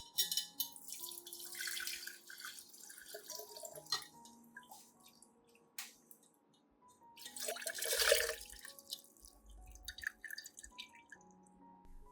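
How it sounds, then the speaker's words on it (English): Rice water and aloe vera mixtures are strained to separate out the residue, giving faint drips and trickles of liquid with a few louder splashy bursts partway through, set against a quiet, low background. "I will strain both mixtures to remove all the residue, keeping only the liquid extract"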